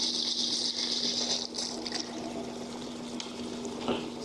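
Hot water sprays steadily from a Camplux outdoor water heater's shower head, a close, continuous hiss with a steady pump hum beneath and small splashing changes.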